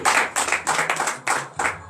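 A church congregation at a morning prayer service in Benin claps in several rapid bursts, loud and close, with brief pauses between the rounds of applause.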